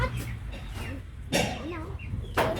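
Chickens on a small poultry farm in town give soft clucks and short calls, with a few brief louder bursts, heard close under scattered background voices.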